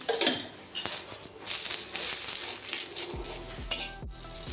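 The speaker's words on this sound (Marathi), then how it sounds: "आपल्याला आता मिरचीसुद्धा छान भाजून घ्यायची आहे मिरचीवर आपण थोडं तेल टाकूया" Oil sizzles and crackles steadily in a pan as green chilies roast and are stirred for thecha, with metal utensil scrapes and clinks throughout; no talking.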